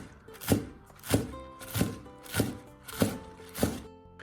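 A knife chopping green onions on a cutting board: six evenly spaced, crisp thunks close by, about every half second, with quiet gaps between.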